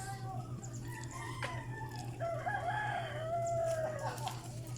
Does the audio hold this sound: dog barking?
no